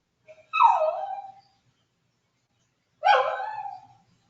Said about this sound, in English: Who's that mistreating that dog?